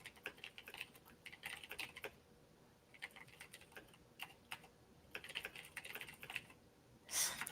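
Rapid bursts of computer keyboard typing as a chat message is written during a Tetr.io session, crisp close key clicks in uneven runs with brief pauses between them, under quiet talk.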